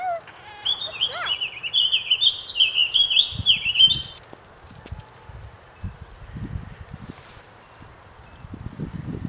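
A small bird chirps in quick bright bursts close by for a few seconds outdoors in Aspen in early March, then falls quiet while soft thumps and rustling continue.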